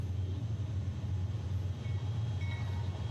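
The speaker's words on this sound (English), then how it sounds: "It's a train." A Norfolk Southern train rolls past on the railroad on a foggy, rainy day, a steady low rumble and rolling drone holding throughout at a moderate distance, with no voices.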